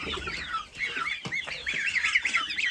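Chicks cheep rapidly and continuously alongside occasional clucks from hens in a backyard poultry pen, close and busy, with brief louder squawks.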